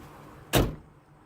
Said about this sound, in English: See if you can catch how this door sounds here when I close it.